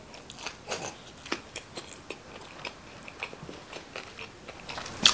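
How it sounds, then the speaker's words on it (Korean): Crunchy Chicago pizza crust is bitten and chewed up close: a quiet, steady series of crisp crackling crunches with no talking. "아, 너무 바삭바삭했다."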